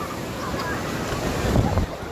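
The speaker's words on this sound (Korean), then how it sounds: "지유야 파도 보여? 파도?" Ocean waves breaking on the sand at Haeundae beach, a steady, close wash of surf mixed with wind buffeting the microphone, swelling slightly louder near the end.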